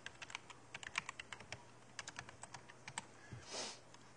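Typing a folder name on a computer keyboard, a quiet, close run of separate key clicks in an uneven rhythm, ending in a slightly longer, softer press, with no voices.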